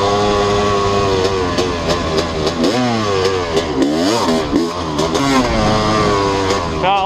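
A Honda CR250 two-stroke dirt bike engine revs hard and close, its pitch sweeping up and down through repeated throttle blips over a steady loud drone, with no talking.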